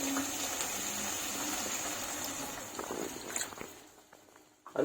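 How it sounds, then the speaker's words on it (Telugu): Water poured from a glass into a pan of tomato-based boondi curry, a soft splashing and trickling up close that fades out over a few seconds, ending with a louder clatter. "ఇప్పుడు దీంట్లో కొద్దిగా వాటర్ పోద్దాం."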